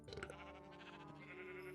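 A sheep in the Minecraft mod TerraFirmaCraft lets out a single wavering bleat that stands alone, with no talk over it, and holds steady at moderate loudness for about two seconds.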